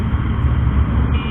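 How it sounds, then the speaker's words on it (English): Suzuki Fiero motorcycle engine with a slipping clutch or clutch cable, revving loudly and steadily under throttle as the RPM climbs without pulling the bike, a continuous low-pitched drone. "As soon I'm just giving a throttle, it's just rising."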